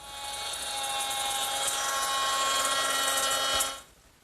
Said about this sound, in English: I'm going to use my router with a 1/4-inch slot cutter